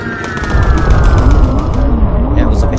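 Aircraft cannons in Bomber Crew fire a rapid, continuous burst of heavy gunfire, loud and close, with a humming engine drone underneath and a voice talking over it.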